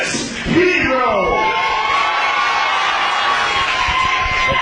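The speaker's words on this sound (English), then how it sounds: "The crowd making some noise." A crowd at a professional wrestling event cheers and shouts loudly throughout, with whoops and a rising roar near the start, dense and continuous.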